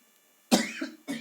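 A single sharp, close cough is followed by the start of a second, shorter one after a brief pause, and no voice is heard.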